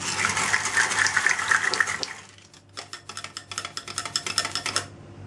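A potato mix is stirred into yogurt in a bowl, with a continuous wet scraping and swishing at first, then a pause, then a run of quick sloshing, clinking strokes, close and fairly loud with no talk.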